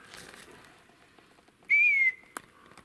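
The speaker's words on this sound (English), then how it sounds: "Have you ever heard a whistle like that, though, in your entire life in the woods?" A strange whistle in the woods: one clear, sustained tone lasting under half a second, fairly loud and close, set against quiet outdoor ambience with a faint click just after it.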